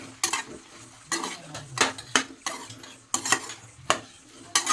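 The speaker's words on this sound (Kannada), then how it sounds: "ಈ ಹುಣಸೆ ಹಣ್ಣಿನ ರಸವನ್ನು ಹಾಕೊಳ್ತಾ ಇದ್ದೇನೆ ಈ ಥರ ಮಿಕ್ಸ್ ಮಾಡ್ಕೊಳ್ಬೇಕು" A spoon stirs leftover rice and tamarind juice together in a metal pan, making repeated sharp scraping clinks in an uneven rhythm. A soft sizzle runs underneath, heard close up with no talk.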